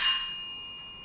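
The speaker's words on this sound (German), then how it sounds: "Und das ist die Klingel" A doorbell in a home sounds one bright chime that rings out and slowly fades, with nothing else heard.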